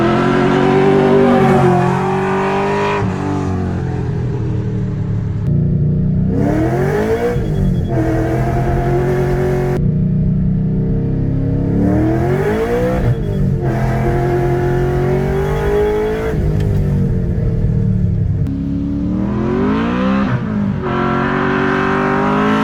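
A cammed Ford BA GT car engine revs hard through repeated acceleration pulls, loud rising engine tones climbing with each gear and dropping at shifts, heard from inside the car with no talking.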